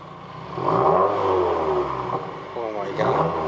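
A Subaru WRX fitted with a Remark axle-back exhaust revs its engine nearby, the note rising and falling in several surges while people talk excitedly over it.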